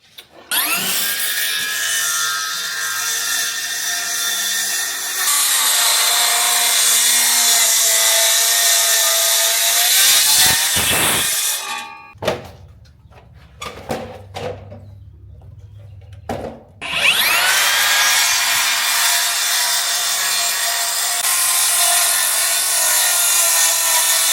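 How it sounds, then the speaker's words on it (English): A Makita 40-volt cordless circular saw with a 10 1/4-inch blade cuts through a white oak mantle, its loud whining, grinding roar running long, dropping out briefly to a low hum and near-silence midway, then surging back for a second sustained cut. "I'm going to use the Makita 40 volt 10 1/4 inch blade skill saw. Let's cut."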